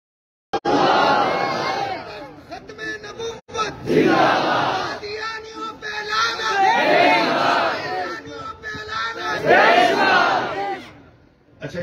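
A crowd at a religious gathering chants slogans in loud unison bursts, several rising waves of massed voices with short pauses between them, echoing in a large space.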